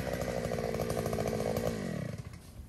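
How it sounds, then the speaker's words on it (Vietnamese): A Takyo TK 3P push-wheel earth auger drills into hillside soil full of roots and grass stumps, its small two-stroke engine buzzing loud and close, then the pitch drops and throbs as it slows. "Máy đang được khoan ở đất đồi trồng cây lâu năm với rất là nhiều vết cây và gốc cỏ lớn"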